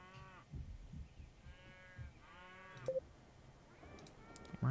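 Cartoon cows on a farm in The McDonald's Video Game give a few drawn-out, tonal moos spaced across several seconds, fairly quiet and close, with soft game background sounds and no speech.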